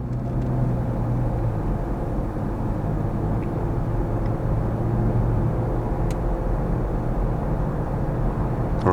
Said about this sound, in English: And we're going to look at this car coming toward me.